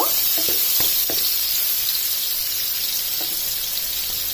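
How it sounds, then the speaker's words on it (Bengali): Three large chopped onions hit hot oil in a pan, giving a steady, loud broadband sizzle with a few soft clinks early on, no voices, for fish curry. "তেলটা গরম হয়ে গেছে এখন আমি এখানে তিনটে বড় সাইজের পেঁয়াজ কুচি দিয়ে দিচ্ছি"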